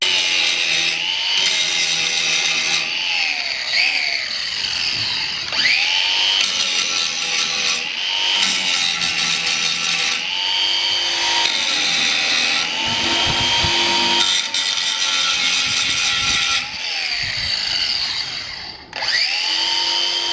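A small cordless grinder whines steadily as it cuts through screws in the wooden decking of a trailer, its pitch dipping and recovering under load across several cuts, close by with no talk.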